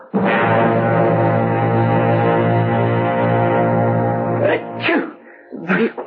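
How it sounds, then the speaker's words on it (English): A long, low, droning tone holds for several seconds, then breaks into a couple of sharp sneeze-like bursts at the end. "I heard you sneezing."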